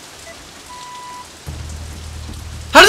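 Rain falling in the video game Vampire Rain: a quiet start, then a steady low wash of downpour, ending in a sudden louder burst of splashing rain.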